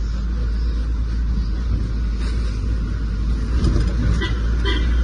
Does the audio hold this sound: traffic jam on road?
yes